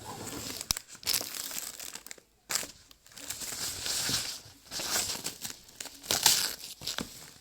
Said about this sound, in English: So you now take tissue paper.